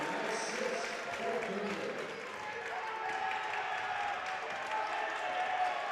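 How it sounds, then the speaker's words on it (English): A crowd at a high school girls and boys basketball game claps and murmurs steadily in a gym, a moderate, continuous spread of applause with no one speaking over it. "the round of applause you hear is Aaron Zeman getting ready to check in at the next whistle"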